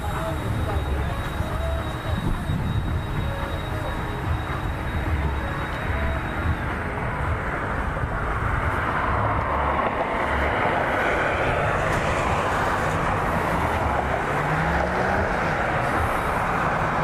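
An Embraer E175 jet at Cleveland Hopkins airport produces a continuous, loud roar that swells and spreads across the clip, with wind buffeting the microphone and occasional voices underneath.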